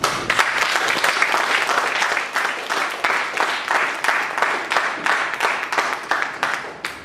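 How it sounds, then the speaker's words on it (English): Audience at a Toastmasters club meeting giving a loud round of applause, dense overlapping claps that run steadily and then thin into a more rhythmic, pulsing clap toward the end. "Big round of applause."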